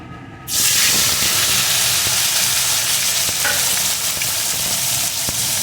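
Cut eggplant pieces dropped into hot oil for a fish and eggplant curry: a sudden loud burst of hissing sizzle that then holds steady and intense, with faint stirring clicks underneath, no talking.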